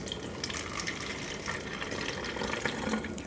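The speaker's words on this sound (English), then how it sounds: "I'm going to go ahead and add the apple cider vinegar" Apple cider vinegar pours into water in a steady, gushing stream. The liquid sound is close and continuous, with no one speaking.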